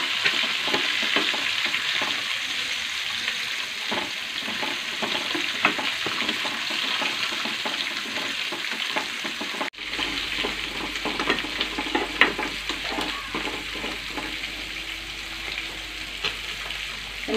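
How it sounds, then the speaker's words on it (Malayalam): Vegetables for an Onam sadya koottukari frying and being stirred in a pan after water is added, a constant dense close sizzle with scattered scraping and stirring noises throughout, no talking. "ഇനി അതിനകത്തേക്ക് വെള്ളം ഇട്ട് കൊടുക്കാം ചെറുതായിട്ടൊന്ന് വാട്ടിയെടുക്കാം"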